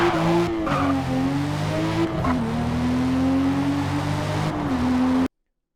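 The new Toyota Supra in Forza Motorsport roars up through the revs with quick gear changes at roughly 0.6, 2.1 and 4.6 seconds, loud and continuous with faint tire squeal, then cuts off abruptly; no speech.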